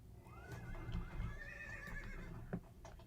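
A horse whinnies in the Dungeons and Dragons Online video game, a drawn-out neigh rising and falling over about two seconds, with faint hoof clops beneath and a low game ambience, no speech.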